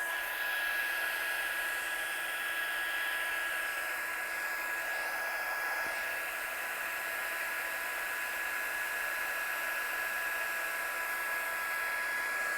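A heat gun blows a steady, even hiss of hot air for about twelve seconds while heat-setting a small craft piece, constant and close, with no pauses and no talking.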